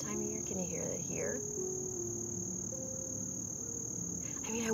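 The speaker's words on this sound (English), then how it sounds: "I also really love to hear the sound of the crickets and how it changes" Autumn crickets chirp in a steady, continuous high-pitched trill outdoors, loud and unbroken throughout, while someone speaks softly at the start and end.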